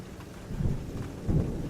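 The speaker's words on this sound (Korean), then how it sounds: "천둥 소리가 곧 있으면 낙뢰로 칠 것 같이 그렇게 거칠었습니다" Thunder and rain effect from a Korean horror audiobook: a constant rumble of heavy rain with two low thunder rolls swelling up, one near the middle and another toward the end, no voice heard.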